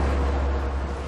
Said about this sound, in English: or a boat